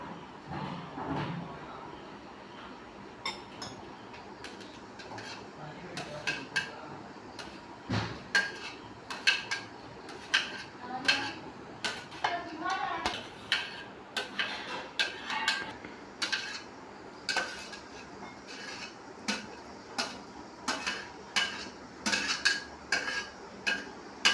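Chopped tomato, cucumber, onion, green chilli and carrot for a vegetable salad are tipped and scraped into a bowl, with soft clinks and taps of a spoon against the dish that grow more frequent.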